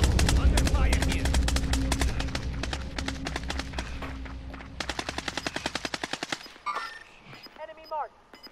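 Rapid automatic gunfire in a video game, long bursts of dense, evenly spaced shots close and loud, then a shorter burst and scattered effects near the end, with a voice briefly speaking.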